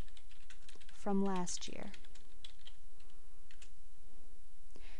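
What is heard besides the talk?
typing text on a computer keyboard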